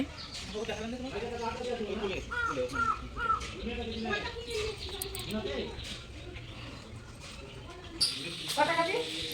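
Birds call and caw nearby, mostly crows, mixed with people talking throughout.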